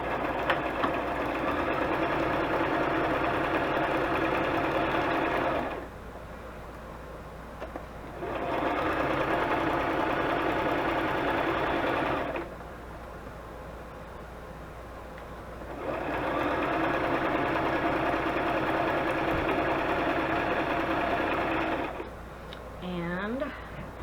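A sewing machine stitches paper index card pockets in three long running bursts separated by pauses, a close, steady whirring buzz.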